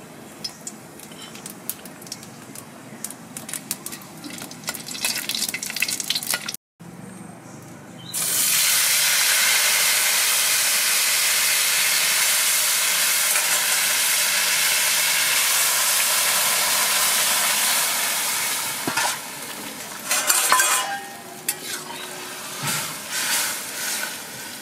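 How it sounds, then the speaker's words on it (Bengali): Dry red chillies, whole black peppercorns and radhuni seeds sizzle in hot oil for a fish curry with bottle gourd, a sudden loud sustained hiss after a brief clatter, holding steady before easing off with a few stirring clinks. "আর ফোড়নে দেবো আমি শুকনো লঙ্কা, কটা গোটা গোলমরিচ আর রাঁধুনি।"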